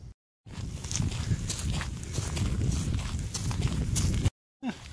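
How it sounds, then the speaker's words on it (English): Several horses walking, their hooves clip-clopping in a steady, dense patter that stays fairly loud throughout, with brief silent gaps at the start and end. "It's a bunch of horses."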